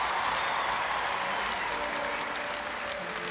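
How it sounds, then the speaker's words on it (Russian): Concert audience applause at a Russian pop show, a steady roar of many hands clapping in a large hall, fading only slightly toward the end. "Ваши аплодисменты, друзья, еще раз."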